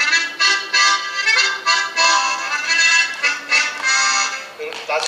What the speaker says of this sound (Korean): 요거는 바리톤입니다. 바리톤. 그래서 저거보다는 전체적으로 한 옥타브 낮은 소리가 나요